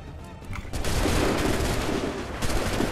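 A musket volley fires in Assassin's Creed 3 as a sudden dense crackle of many shots together, then a sustained roaring rumble of battle noise, loud and heard without speech.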